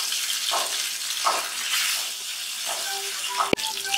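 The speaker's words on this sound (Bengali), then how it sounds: "এবার পার্শে মাছটা আমি হালকা করে ভেজে তুলে নেব" Parshe fish fries lightly in hot mustard oil, giving a steady, close hissing sizzle with a few brief sharper crackles.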